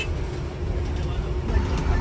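Bus cruising along a road on the Varanasi to Ayodhya route, a steady low engine and road rumble heard from inside the cabin with speech present.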